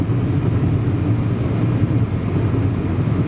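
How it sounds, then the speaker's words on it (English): Steady low road roar inside a Toyota Corolla cruising at motorway speed at night, a constant rumble of tyres and engine with no talking. "this is kind of what the sound is like on the motorway or the freeway"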